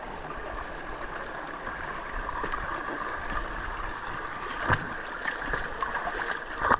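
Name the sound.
wading through water in Doblarec stream canyon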